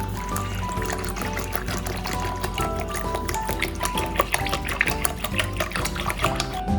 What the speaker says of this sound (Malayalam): നമുക്ക് ഇതിനകത്തോട്ട് വെള്ളം ഒഴിക്കാം